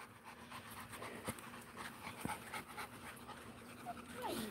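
Several dogs pant quickly and steadily outdoors, close and fairly quiet, with faint background voices and a brief whine near the end.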